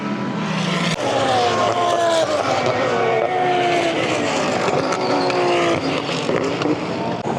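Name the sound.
Super GT race cars braking hard and accelerating at Fuji Speedway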